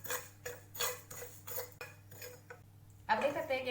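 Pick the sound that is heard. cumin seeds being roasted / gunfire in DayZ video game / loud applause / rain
cumin seeds being roasted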